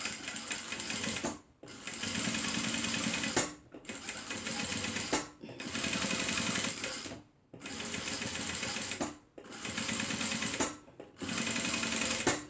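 A sewing machine stitching a zipper handbag runs in steady bursts of a couple of seconds each, separated by short pauses, with a loud close rattling hum and no talking.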